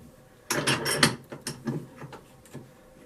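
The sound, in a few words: bench vise clamping a bicycle pedal cage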